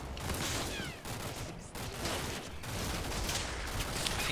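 Rattling volleys of small-arms fire in the wartime strategy game Combat Mission: Blood on the Snow, dense bursts with brief gaps, moderately loud and distant-sounding, no voices.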